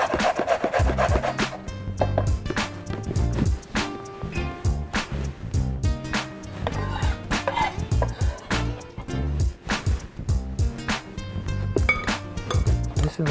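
A carrot is rubbed against the coarse side of a grater in quick, repeated rasping strokes, close and fairly loud, with a faint musical background underneath.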